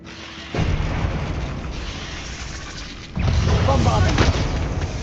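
Bombardment explosions from the Hogwarts Legacy video game, heard as loud, dense booming rumbles that jump in level partway through and continue heavily, with a voice briefly present under the blasts.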